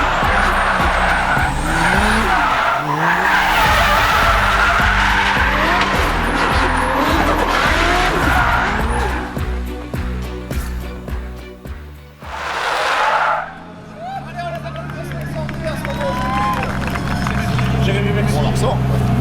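A Toyota Supra drifting at a track event, its engine roaring loud and close with long tire squeals as it slides, the revs rising and falling over several passes while people talk nearby.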